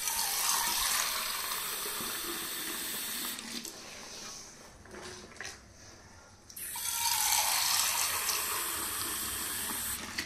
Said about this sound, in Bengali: ভাতে একটু জল দিয়ে দিই।